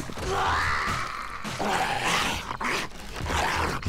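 A zombie dog in the survival game 7 Days to Die growls and snarls in a long, loud, rough stretch over a dense game soundscape.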